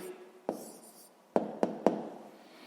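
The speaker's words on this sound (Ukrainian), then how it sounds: "записуємо відповідь" Pen writing a sixth-grade math answer, a faint scratch followed by several short sharp taps and strokes close by, with no talking.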